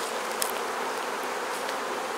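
Honey bees swarm around an open beehive during an inspection, a dense, continuous close buzzing that fills the air evenly without pause.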